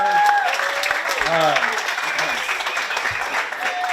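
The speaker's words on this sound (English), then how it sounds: "So a round of applause for these guys." Guests applaud a wedding toast with a steady burst of clapping that fills the room, mixed with some voices and crowd chatter.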